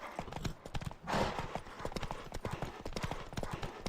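Rapid, rhythmic hoofbeats of a galloping horse pound steadily throughout, with a brief whoosh partway through, in the video game The Witcher 3: Wild Hunt.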